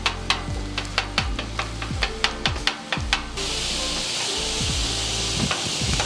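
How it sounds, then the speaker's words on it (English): Quick, rhythmic metal-on-metal chopping strikes as meat is chopped on a griddle over a steady sizzle, then the chopping stops and a loud, continuous frying hiss takes over. "I just start chopping it up"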